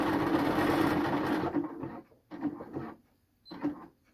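A sewing machine stitches elastic into the leg opening of a swimsuit, first in a steady close whir, then in short stop-start bursts with pauses between.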